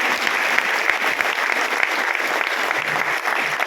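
Loud, dense applause fills an RCM Business seminar hall in Varanasi, a steady unbroken wash of many hands clapping together for the full stretch without any talk over it.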